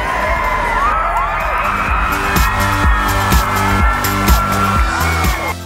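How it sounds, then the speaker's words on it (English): A crowd applauds and cheers for the winning Largy College group at a youth awards showcase, loud clapping and whoops riding over a pounding rhythmic music beat that keeps going throughout. "Big round of applause for Largy."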